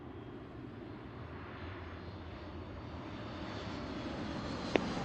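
A jet airliner takes off from runway 34 right at Seattle airport. The engines produce a steady, broad roar that swells gradually, heard from a distance with no talk over it.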